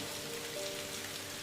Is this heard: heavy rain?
yes